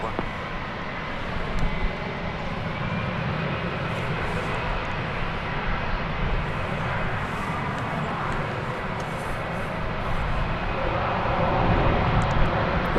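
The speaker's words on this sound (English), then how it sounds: "A little Airbus A319 action for you." An Airbus A319 at DFW Airport produces a continuous, fairly loud jet engine rumble with a broad hiss that swells slightly toward the end, with no talk over it.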